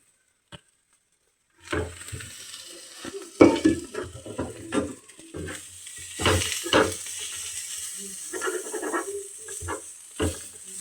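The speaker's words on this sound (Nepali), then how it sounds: "मैले चाहिँ फ्राई मात्र गर्न लाग्यो है" Already-cooked chow mein being stir-fried in a pan, a soft steady sizzle under repeated scraping and clattering strokes of a utensil against the metal, close and fairly quiet, with no talking.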